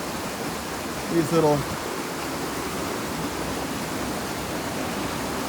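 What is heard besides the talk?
creek water rushing over rock, Spoon Creek Falls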